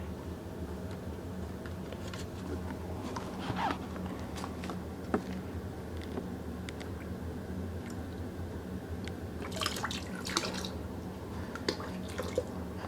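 Pine floor cleaner sloshing and dripping in a bucket of very hot water, with faint intermittent drips, splashes and a couple of brief louder bursts over a steady low background; no talking.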